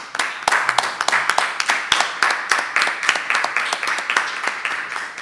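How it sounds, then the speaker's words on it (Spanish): An audience at a colloquium on Mexico's 2018 general elections applauds the speakers: a dense run of sharp hand claps, close and fairly loud, some single claps standing out, with no talking. "un aplauso para los ponentes"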